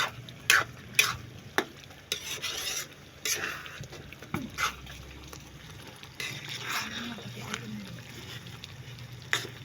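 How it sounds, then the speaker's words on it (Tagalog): Biko, Filipino sticky rice cake rich in coconut milk, being stirred in a pot while cooking, with repeated scraping and clanking strokes over a soft bubbling sizzle, close and fairly loud, with no voices. "samahan niyo ako magluto ng biko"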